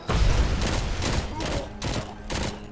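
Machine gun fire in the Robocop video game, loud repeated bursts of rapid shots pounding in a rhythmic series, each burst about half a second apart with booming low thumps.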